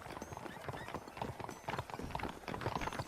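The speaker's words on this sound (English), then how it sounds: "I asked Nastas to bring the horses around front." Horse hooves clip-clop steadily in Red Dead Redemption, a close, busy rhythm of many hoofbeats that carries through the whole stretch, with a faint whinny and some game voices mixed in.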